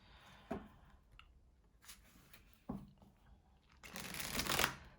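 A deck of Orion's Tarot cards being shuffled by hand: soft riffling flurries and a few crisp slaps, ending in a longer rushing riffle, close and quiet with no talking.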